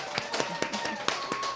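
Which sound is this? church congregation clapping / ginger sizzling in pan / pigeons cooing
church congregation clapping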